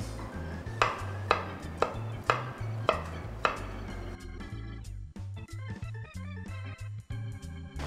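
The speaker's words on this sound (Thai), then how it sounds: "เดี๋ยวเราก็จะมาซอยมะอึกกันค่ะ" A knife slices peeled hairy-fruited eggplant (ma-euk) on a cutting board for Thai chili paste, giving a steady series of sharp close chopping taps, about one per half second, quickening toward the end.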